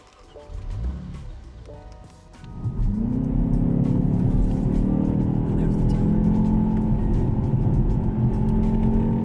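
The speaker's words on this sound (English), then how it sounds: "when you pull back this right paddle, you get an extra boost." A BMW X2 M35i accelerating hard, the engine rising from a brief rev into a loud, sustained, steadily climbing drone heard from inside, with a voice talking faintly early on.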